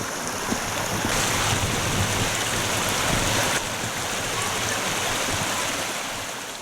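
River Colne in the South Pennines near Marsden flowing under a bridge, a steady broadband rush of water that stays loud and close throughout, with no talking.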